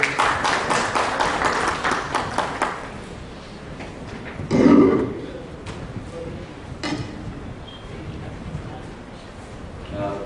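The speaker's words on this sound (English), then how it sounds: "A round of applause for Mr. Vaklu." Audience applause at a corporate summit as a telecom executive takes the stage: a burst of many hands clapping that fades within a few seconds, followed by quieter room noise with scattered movement.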